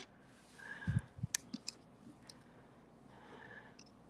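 A few close, sharp clicks and snips come from a sewing machine as its thread is cut, a short cluster of ticks followed by faint mechanical sounds in a quiet room.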